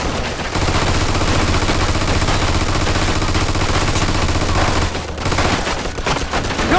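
Sustained automatic fire from a mounted machine gun in the video game Mafia II, dense and continuous across the clip with only a brief dip near the end.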